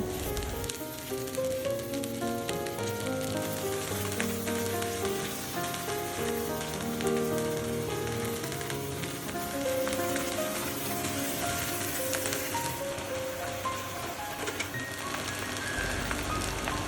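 Jute leaves frying in a hot pan give a steady, dense sizzle with crackling that holds at an even loudness throughout, heard up close with no talking.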